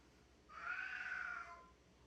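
A young cat gives a single drawn-out meow, rising and then fading over about a second, fairly faint against a quiet room with no talking.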